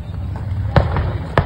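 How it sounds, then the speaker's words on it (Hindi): Two sharp booms a half-second apart stand out over a constant noisy background, distant explosions at a burning firecracker factory. "धमाकों की आवाज सुन सकते हैं।"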